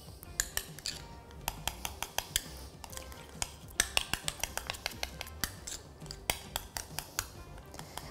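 A utensil scrapes and clicks repeatedly against a bowl while stirring paste food colouring into buttercream, short sharp taps in an uneven rhythm, close and fairly loud with no talking.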